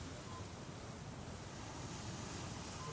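Sea waves wash steadily at night in a broadband, continuous roar with no distinct breaks, close and fairly loud, alone without talk.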